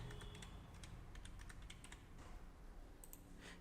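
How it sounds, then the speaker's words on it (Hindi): Someone types a date on a computer keyboard, producing a quick run of crisp, close key clicks in short irregular bursts against a quiet background. "यहाँ पर हमें एक डेट टाइप कर लेनी है।"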